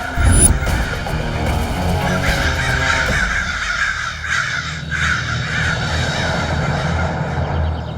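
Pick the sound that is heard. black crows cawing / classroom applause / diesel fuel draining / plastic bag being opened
black crows cawing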